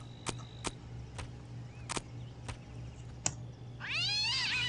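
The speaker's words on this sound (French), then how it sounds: "Bah, j'ai ramassé un chat." A cat meows in the violent video game Postal 2, heard as a rising, wavering cry near the end after several sharp clicks over a steady low hum.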